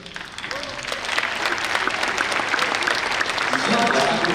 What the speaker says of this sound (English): That's not how you clap for the winning.